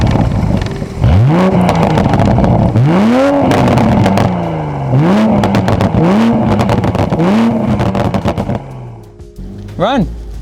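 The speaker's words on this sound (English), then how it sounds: "So let's start it up and let's see what that exhaust sounds like." A 2020 Toyota Supra starts and its exhaust is revved repeatedly, five loud rising blips with crackling pops between them, close and strong, ending in a short final rev; voices talk over parts of it.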